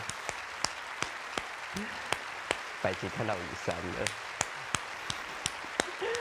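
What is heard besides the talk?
audience applause after stage performance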